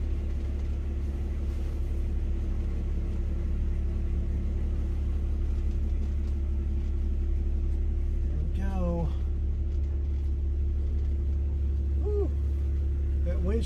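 A car idles with a steady low engine rumble while backing slowly out of a driveway, heard from inside the cabin, with a voice speaking briefly over it.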